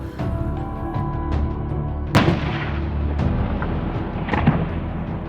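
Tank and machine-gun fire on a US Army firing range, heard from close by over a constant engine drone: several sharp reports spread out irregularly, with one louder blast near the middle and another toward the end.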